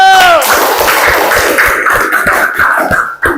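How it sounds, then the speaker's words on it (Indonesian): Students in a classroom clap for group 1, a loud close burst of quick overlapping claps that starts right after a brief voice and keeps going steadily before cutting off. "Tepuk tangan untuk kelompok 1."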